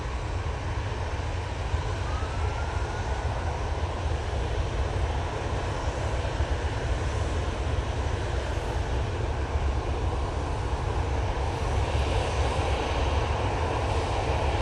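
An Aurigny ATR 72 turboprop arrives from Guernsey at Manchester Airport, its steady broadband engine drone loud and continuous throughout with no talk over it.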